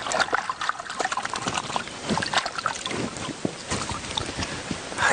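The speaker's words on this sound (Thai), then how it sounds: "น้ำสะอาดน้ำไหลตลอดเวลา" Clean mountain stream water flowing steadily on Doi Mon Jong in Chiang Mai, a continuous close rushing and trickling texture with light wind buffeting the microphone.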